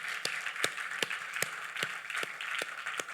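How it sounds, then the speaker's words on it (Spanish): Applause at a church service on the Resurrection, a steady wash of clapping with a few louder sharp claps recurring at a regular beat about every 0.4 seconds, fairly distant. "aplauso al Señor"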